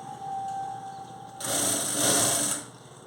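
An electric sewing machine stitches thread piping onto a blouse in a short, steady whirring burst of just over a second, rising out of a quieter background hum.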